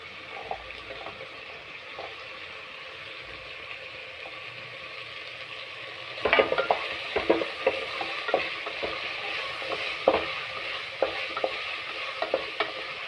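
Vegetables stirred and fried in a pan for bisi bele bath, a constant close sizzle with repeated scraping, clacking stirring strokes that grow louder and busier in the second half.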